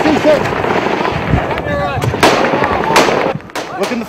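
Grenade blast in a firefight during an ambush on coalition soldiers in Afghanistan, heard as sharp broadband bangs among ongoing gunfire, with shouting voices over the chaotic, loud outdoor scene.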